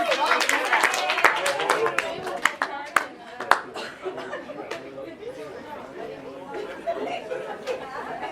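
A small class audience claps in a brief burst of scattered handclaps amid lively chatter and light laughter, and the clapping thins out as the talking continues.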